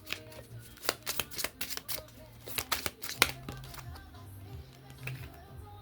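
Cards being drawn and handled from a Mon Jeu de la sérénité deck, a close series of crisp flicking and shuffling snaps in irregular bursts over a soft, low hum.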